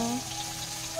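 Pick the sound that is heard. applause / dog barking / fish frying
fish frying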